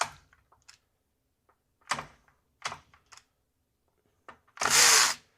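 Milwaukee M12 Fuel extended reach ratchet breaking a nut free: short separate bursts of tool noise with quiet gaps between, closing with one louder, longer whirring run near the end.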